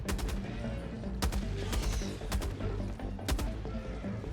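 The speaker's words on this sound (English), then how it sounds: "the heavy machine gun delivers" Heavy machine gun in Helldivers 2 fires loud, sustained automatic bursts, with sharp individual reports punching through a dense, continuous roar of gunfire and no voices.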